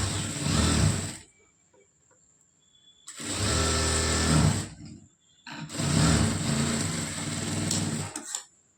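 A sewing machine runs in three long bursts as it stitches around the lining of a blouse sleeve, close and steady, with short quiet pauses between the runs and no talk.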